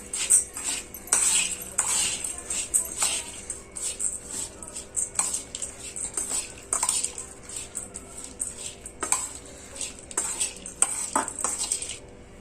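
Matki bhel, a snack of sprouted moth beans, is mixed by hand in a bowl, with irregular clinks and scrapes of a spoon against the dish and soft stirring rustles running steadily throughout, close and alone.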